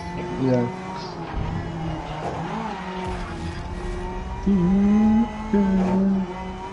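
A person imitates car engine noises with their voice during a GRiD Legends race, humming revving pitches over game engine drone and tyre squeals, with people talking.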